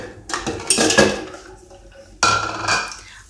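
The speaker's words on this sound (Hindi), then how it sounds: "अब हम इसमें आइस डालेंगे।" Ice cubes dropped into a jug of sugar water for Rooh Afza sharbat, giving two bursts of close, hard clattering and clinking, the second shorter and sharper.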